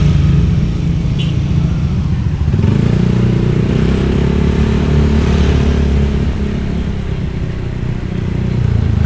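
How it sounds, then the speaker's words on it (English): Peak-hour street traffic in Borongan, with cars and motorcycles passing close by, forms a loud, continuous engine drone and rumble with occasional rising revs. "Yeah, it's peak hour traffic."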